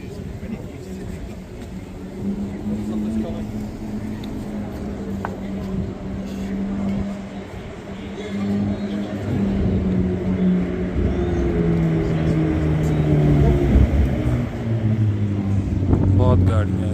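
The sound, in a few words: cars passing by on Sloane Street, London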